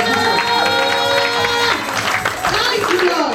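A church audience at a healing and deliverance service applauds and cheers as a group, the clapping mixed with a speaking voice and musical tones, steady and loud throughout.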